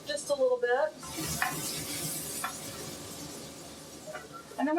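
Garlic and onion sauté in a pan with a steady, soft sizzle after a brief voice at the start, a few light clinks and stirring touches mixed in, and another short voice near the end.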